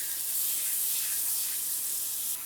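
Beef searing in hot avocado oil in a pan, a steady loud hiss and sizzle that holds evenly for a couple of seconds, with no voices.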